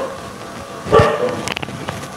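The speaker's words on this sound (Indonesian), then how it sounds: "Nah, itu dia lagi gonggong, tapi baik banget sama aku." A neighbourhood dog that often comes by begging for food barks once, short and fairly close, then a few fainter yips follow.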